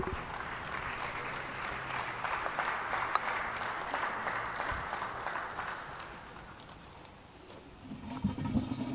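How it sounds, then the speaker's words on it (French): Conference audience in a basilica applauding a speaker: a steady, fairly faint wash of clapping that fades toward the end before a voice begins. "je vous prie d'applaudir très fort pour notre conférencier"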